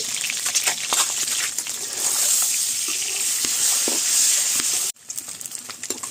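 Steady hissing and crackling of eggs frying in hot oil with salt and turmeric, close up, with a few small pops and a brief cutoff near the end.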